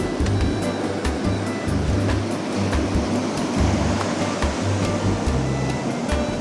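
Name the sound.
sea waves washing onto a beach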